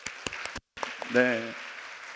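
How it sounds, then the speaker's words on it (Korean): A burst of applause from a church congregation, with a short spoken word cutting through partway as the clapping continues in the background. "다시 한번 큰 박수로 격려해 주십시오."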